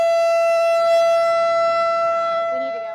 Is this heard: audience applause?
no